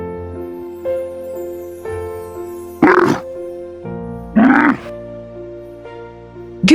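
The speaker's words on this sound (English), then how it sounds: "Camel." A camel gives two short, rough grunting groans spaced about a second and a half apart over soft background music.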